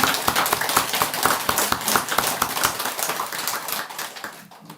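Audience applause at a Buddhist dharma talk, dense rapid hand claps filling the space at a steady loud level, then thinning and fading out near the end.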